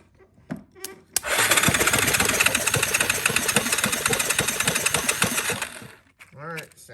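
A cheap ATV engine cranks over on its starter and runs roughly for about five seconds, a loud, dense mechanical clatter that stops abruptly, with brief voices before and after.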